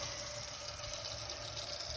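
Hot tap water runs steadily into the tank of a carpet cleaning machine, a continuous close gush with no voices.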